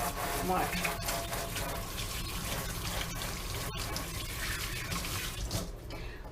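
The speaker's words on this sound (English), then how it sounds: "I gotta wash my hands." Hands washed under a running kitchen tap, a steady close rush of water with small splashes running continuously through the whole stretch.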